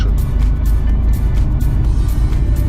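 Cab interior of a truck driving on a road, with a loud, steady low engine and road rumble that stays constant throughout.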